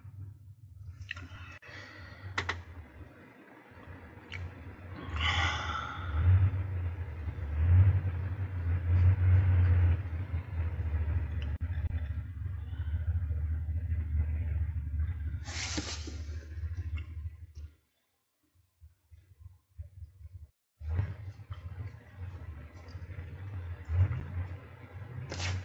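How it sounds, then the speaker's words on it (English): A car engine rumbles nearby, rising and revving for a stretch, cutting out briefly, then starting up again with a deep low drone. "Somebody is revving up the engine."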